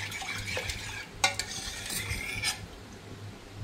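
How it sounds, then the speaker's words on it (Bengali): A spoon stirs milk into palm fruit pulp for payesh, giving close scraping and light clinking against the bowl in a few quick strokes before it quiets down. "তারপর আমি এখানে দুধ গুলে নিচ্ছি"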